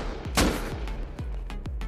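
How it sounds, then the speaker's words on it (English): Gunshots in the video game Rust, a brief burst of several evenly spaced sharp reports with booming low tails, fairly loud against a steady noisy background. "I hear gunshots."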